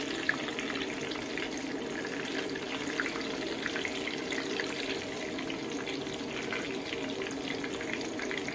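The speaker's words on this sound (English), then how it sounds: "So you're gonna keep letting this fry." A mushroom burger patty fries in a pan with a steady, even hiss of sizzling oil that holds at a constant level throughout, with no voices.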